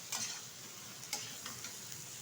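Prawn and kudri potato curry gets stirred in a pan, a faint, quiet sizzle with a few soft scrapes and taps of the spoon, heard near and with no talking.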